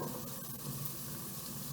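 A quarter of an onion sizzles in a hot pan, a soft, steady frying hiss that stays even and fairly quiet throughout, with no voices.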